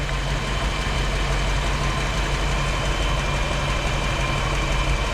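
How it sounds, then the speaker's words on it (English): A 1959 Chevrolet Bel Air with nearly 200,000 miles idles at about 160 degrees, its engine making a steady, close, low rumble that stays even and unbroken throughout. "I've never really shown this thing just sitting here running"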